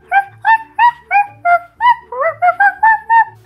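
A small dog or puppy gives a rapid run of about twelve short, yappy barks with whimpering overtones, close and loud, set beside a doll-house playset scene.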